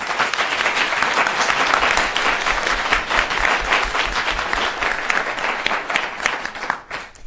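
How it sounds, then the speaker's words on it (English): Sustained, dense audience applause for high school students at a public policy debate semifinal, steady and full for several seconds before tapering off. "let's go ahead and give these students a big round of applause"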